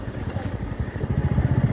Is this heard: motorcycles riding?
yes